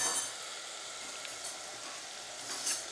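Chicken gravy sizzling and frying in a pan while being stirred, a steady soft hiss with occasional clinks of the utensil against the pan, fairly quiet and close, with no talking.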